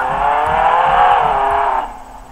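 A car driven in the Roblox video game, with a steady, loud synthetic engine drone that holds for nearly two seconds and then drops off near the end, with no talk over it.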